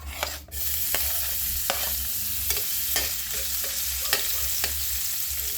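Garlic sautéing in a little oil for a bitter gourd (ampalaya) dish: a steady close sizzle with a handful of sharp spatula scrapes and taps against the pan, and no talking.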